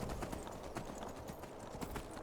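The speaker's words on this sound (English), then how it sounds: "this horse is pretty good" Horse hooves clip-clop steadily in Skyrim as the mount climbs through mountains near High Hrothgar, a quick, fairly loud rhythm of hoofbeats running through the whole stretch.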